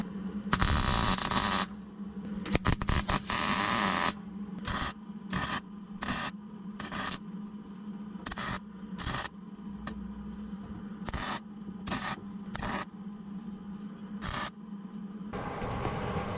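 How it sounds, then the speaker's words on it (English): Arc welding on a Case 170B excavator under repair: a steady electrical buzz and crackle running in repeated bursts, each a second or so long with short pauses between, loud and close, with a grinder-like rush at the start. "Just a welding"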